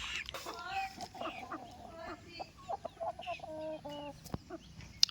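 Aseel roosters and other chickens offered for sale cluck and crow in repeated short calls near at hand, several birds overlapping with brief gaps, under low farmyard background noise.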